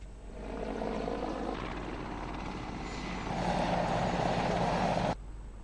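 Helicopter flying low to spray pesticide over locust swarms in Rajasthan farmland: a steady rotor and engine drone throughout that swells louder partway through, then drops off abruptly near the end.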